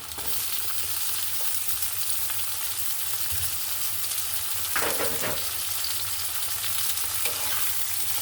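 Chopped capsicum and tomato frying in a pan for noodles, an even hiss of sizzling oil with occasional stirring clinks and scrapes, one stronger scrape burst around the middle.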